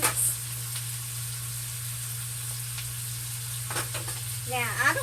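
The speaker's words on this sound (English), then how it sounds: "Now what we want to do with the Trinity and the Pope is just saute it in this bacon grease for a few minutes." Onion, celery and bell pepper sizzle steadily in bacon grease, with an even frying hiss, a few spoon scrapes, and a brief clatter near the end.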